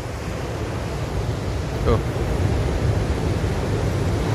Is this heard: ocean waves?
yes